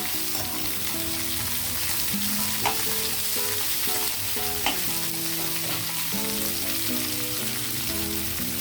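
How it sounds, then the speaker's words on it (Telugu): Cauliflower with green chillies, curry leaves and coriander fries in hot tempering oil, a steady dense sizzle with occasional stirring scrapes and spatula knocks, close and continuous, with no voices. "ఇదిగోండి పోపులు దోరగా ఏగాయి వేసేద్దాం మొత్తం కాలీఫ్లవరు పచ్చిమిర్చి కరివేపాకు కొత్తిమీర ఇవన్నీ వేస్తానండి"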